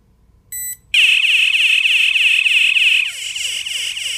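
A loud electronic store door alarm warbles in a fast, repeating rising-falling pattern, preceded by a short beep, and keeps sounding steadily.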